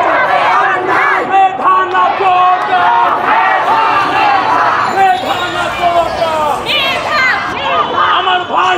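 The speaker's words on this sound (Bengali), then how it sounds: "একদল মেডিকেলের শিক্ষার্থীরা সড়কে নেমে এসেছেন এবং তারা ব্যানার, ফেস্টুন এবং স্লোগান নিয়ে সামনের দিকে অগ্রসর হচ্ছেন" Medical students march along Moghbazar road in Dhaka in a street protest, a loud crowd chanting slogans together in rhythmic rising and falling calls, close and continuous for the whole stretch.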